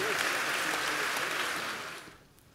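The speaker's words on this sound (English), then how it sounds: "Ladies and gentlemen, another round of applause for His Excellency Nana Addo Dankwa Akufo Ad" An audience at a town hall meeting with the Ghanaian president applauds in a dense, fairly quiet wash of clapping that fades out over the last half-second.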